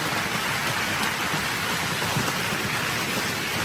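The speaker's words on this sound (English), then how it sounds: "Oh, there's the rain." Heavy rain pours down in a storm with a possible tornado nearby, a dense, steady hiss that holds at a constant loudness throughout, with no voices.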